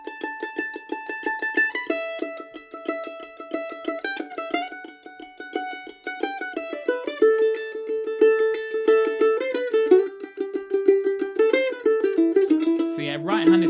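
A mandolin plays the first phrase of the C part of Old Dangerfield in constant, evenly picked eighth notes, bright and close, with the melody stepping down in pitch as it goes, alone without talk.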